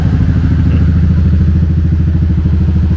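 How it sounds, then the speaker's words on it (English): Close by on a Koh Samui street, a motorbike idles and chugs with a steady, loud, pulsing engine rhythm and faint clatter, running continuously without voices. "They're testing out a new motorbike right here."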